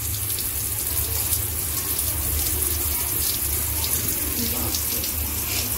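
Hot water from an electric instant water geyser pouring steadily into a basin, a continuous rushing splash at close range with someone talking over it.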